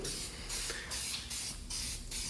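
Rattle can spraying guide coat onto a Chevrolet Tahoe body, a series of short, close hissing bursts in a steady rhythm with brief gaps between sprays.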